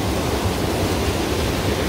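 Jaein waterfall plunges from a basalt-column gorge into a deep pool below, a loud, unbroken roar of falling water filling the whole moment.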